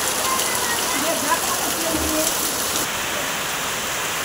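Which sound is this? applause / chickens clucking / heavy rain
heavy rain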